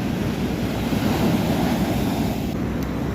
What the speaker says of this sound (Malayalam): കടൽ നന്നായിട്ട് കയറി കിടക്കുകയാണ്